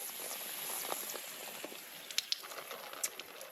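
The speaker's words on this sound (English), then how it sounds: "Big leak." Water leaking from a pipe during a plumbing water test, a steady hissing spray with scattered drips and splashes, fairly faint and without talk.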